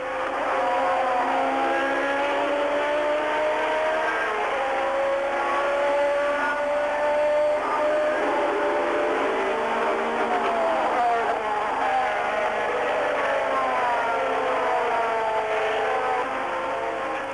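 Formula 1 cars from the 1988 season race in heavy rain, a loud continuous wail of high-revving engines rising and falling as several cars pass, with spray hiss underneath.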